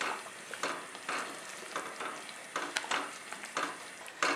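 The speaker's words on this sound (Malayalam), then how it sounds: "തേങ്ങയും കൂടി ചേർത്തിട്ട് ഇത് ഇളക്കി കൊടുക്കാം" Grated coconut being stirred into jaggery payasam in a pan, a spoon scraping in repeated short strokes with a soft sizzle, fairly quiet and close, no voices.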